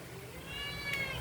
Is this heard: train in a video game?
no